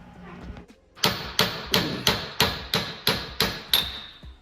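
A hammer strikes a steel shaft nine times in a steady, even rhythm while installing a Reversaru gear kit on a Subaru 4EAT transmission in a VW bus, each blow loud, sharp and ringing briefly, after some faint background sounds.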